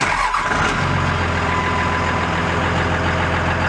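An engine cranks briefly and catches, then runs on in a loud, steady, close idle with no voices.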